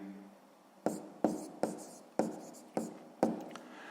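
Pen strokes scratch across paper while a sixth-grade maths problem is worked. Six crisp taps each fade into a brief scraping tail, close and soft.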